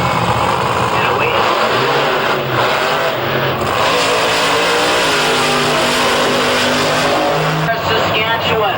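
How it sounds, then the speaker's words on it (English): Drag racing car at a 2005 IHRA national event, its engine roaring loud and steady as revs build, then launching away, with a voice talking over the din throughout. "You'll hear the RPMs come up. And away."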